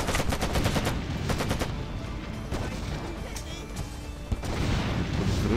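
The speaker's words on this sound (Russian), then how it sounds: "Взрывы конкретные прям." Heavy gunfire and explosions in the Made Man video game, with rapid bursts of shots in the first seconds, then scattered blasts and more firing, loud and close, with voices talking over the battle.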